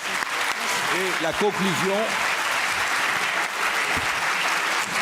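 Sustained audience applause fills a hall at a French conference on Australia and the sea, steady and dense throughout, with a voice speaking briefly over it early on.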